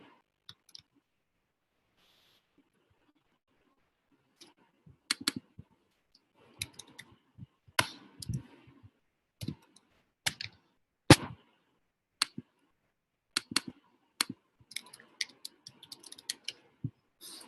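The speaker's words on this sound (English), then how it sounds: "Click on submit." Sparse, crisp mouse clicks and light keyboard taps at a computer are heard while a web form is filled in and submitted. They come singly and in small clusters with long quiet gaps, faint and close, with no talk.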